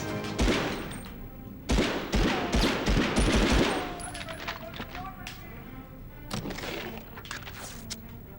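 Gunfire in Medal of Honor on PlayStation opens with rapid, loud bursts of close shots in quick succession, then falls away to scattered, fainter pops and echoing tails.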